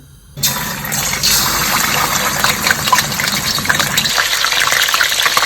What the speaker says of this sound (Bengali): এরপর আমি নিচ্ছি সেলিনা আপুর ঘি 1 টেবিল চামচ